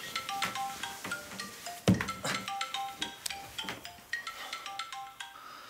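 A phone ringtone plays a bright, plinking melodic pattern of repeated short notes, fairly quiet, with a brief thump partway through and no talking over it.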